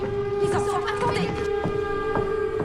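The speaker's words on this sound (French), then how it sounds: "C'est la sirène, venez!" A mine warning siren sounds steadily in a small coal mining town, a continuous wailing tone heard under urgent shouting voices.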